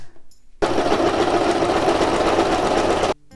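A domestic sewing machine runs a zigzag stitch on fabric, a steady loud motor whir with fast rhythmic needle clatter lasting about two and a half seconds after a quiet start, then stopping abruptly.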